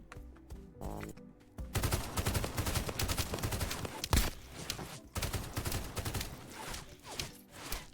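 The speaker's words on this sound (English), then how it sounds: "I could not even see the boss, Roadblock, but he had already started shooting at me." Heavy gunfire from the boss Roadblock in the video game Escape from Duckov, dense sustained bursts of shots after a brief lull, loud and continuous with a sharp peak midway, no talking.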